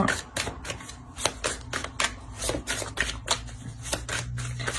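Tarot cards being shuffled and laid out, a rapid series of crisp papery slaps and flicks close by, irregular in rhythm, over a low steady hum with no talking.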